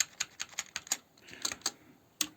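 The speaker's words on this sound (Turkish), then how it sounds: "Jixian Red Switch olduğu için tuş büyüklükleri çıkan sesleri etkiliyor" Rampage KB-RMW23 Scout wireless mechanical gaming keyboard with red switches being typed on: a quick run of crisp, close keystrokes, a brief pause, then a few more clicks ending in one sharp press.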